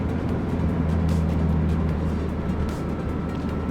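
A budget Honda Civic EG, K-swapped with a K23 turbo engine, pulls under throttle with a low, steady engine drone heard close, punctuated by brief whooshing bursts, with no talk.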